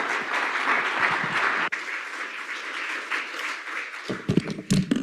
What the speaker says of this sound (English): can we get a round of applause for Janine and the research team?